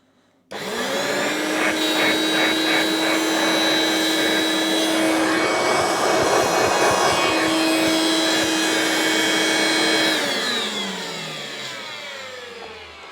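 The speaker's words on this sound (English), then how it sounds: "The motor sounds dreadful." A Hoover Turbopower Freedom vacuum cleaner motor with hardly any suction switches on abruptly and runs loud and steady with a harsh whine for about ten seconds, then winds down.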